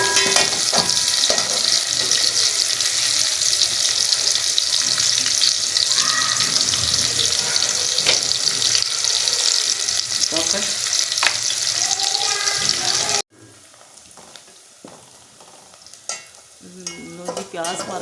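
Onions, finely chopped, frying in a pan for turnip bhujiya, a steady loud sizzle with stirring clatter for most of the stretch, then dropping to quieter kitchen sounds near the end.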